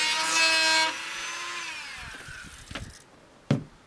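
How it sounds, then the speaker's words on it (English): A small rotary cutting bit slotting across a Phillips screw head on an Argosy 24 trailer: a high, loud whine that winds down as the tool spins to a stop, followed by a couple of sharp clicks and a knock. "I'm going to cut it across one of the places where the Phillips head screw is. So we're going to cut it across to make a slot."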